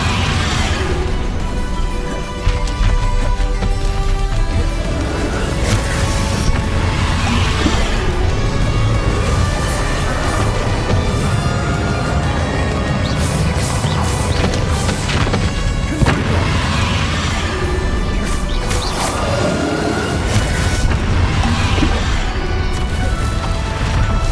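Confringo fire spell explosions in the video game Hogwarts Legacy, with loud, dense booms and crashes rolling over one another almost without pause across a busy battle, alongside whooshing spell effects.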